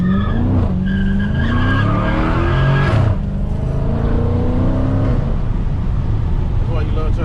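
A 2021 Dodge Challenger R/T Scat Pack with a Hemi V8 drifts, its engine roaring loudly and rising in pitch while the tires skid and squeal. People talk over the noise throughout.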